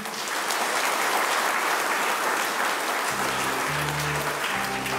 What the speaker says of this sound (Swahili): Basi naomba tupigie makofi mzuri.